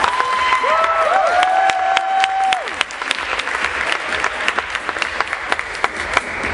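Audience at a college engineering showcase breaks into steady applause, dense clapping throughout with a few brief whistles near the start, loud and close, thinning slightly toward the end.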